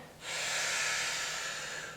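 A long, steady breath drawn in during a forward-fold yoga stretch in a kids' yoga class, a close, airy hiss that swells and holds for about two seconds with no talking.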